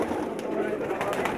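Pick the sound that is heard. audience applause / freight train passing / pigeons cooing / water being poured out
pigeons cooing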